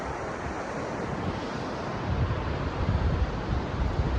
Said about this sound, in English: All night long we could hear this waterfall.